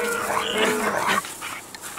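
A dog plays with a set of bagpipes as a toy, its yips and whimpers mixed with a short, reedy drone that cuts off after about a second, leaving quieter snuffling.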